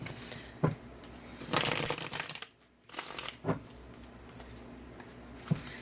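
A tarot deck is shuffled by hand with long fingernails, giving close papery riffles and swishes in a few distinct bursts, including one longer rustling stretch, with quiet pauses between.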